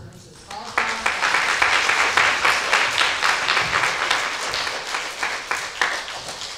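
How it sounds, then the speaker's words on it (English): An audience at a kindergarten graduation ceremony claps in a steady, lively round of applause that lasts several seconds. A few voices can be heard among the clapping. "let's give a round of applause for"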